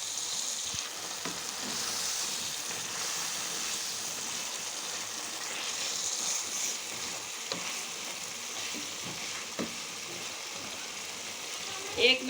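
Fish sizzling as it fries in masala: a steady, dense hiss of frying with occasional soft pops and stirring clatter, continuous and close throughout.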